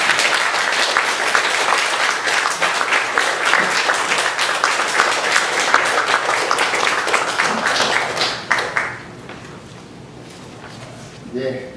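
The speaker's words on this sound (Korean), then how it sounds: "우리 목사님 나오실 때 뜨겁게 박수로 환영해 주십니다" A church congregation at a New Jersey Baptist revival meeting applauds warmly as the pastor comes forward, dense sustained clapping that fades out near the end, followed by a few scattered claps.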